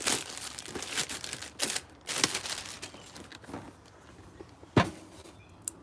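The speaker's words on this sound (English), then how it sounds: "I'm going to rip that out, or rip it off." Plastic wrap is ripped and crinkled off a toy box, heard close up as a run of sharp crackling tears and rustles with brief pauses, ending in one louder snap.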